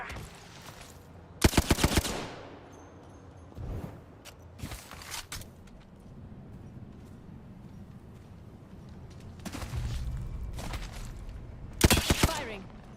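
Automatic and single gunfire in the battle royale game Apex Legends, with several sharp loud bursts spread across the stretch between quieter stretches of game ambience and distant rumbling.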